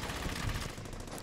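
Rapid automatic gunfire from the World War II shooter Brothers in Arms: Hell's Highway, a brief, dense burst that is fairly quiet.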